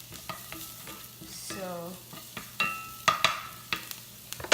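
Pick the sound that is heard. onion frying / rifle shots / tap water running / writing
onion frying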